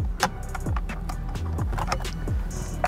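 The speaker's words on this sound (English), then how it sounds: "Gonna pop out the airbag" Plastic clicks and pops as the airbag module is pried loose from a BMW F30 335i M Sport steering wheel with a small metal tool, a few sharp close snaps over faint rustling, no talk.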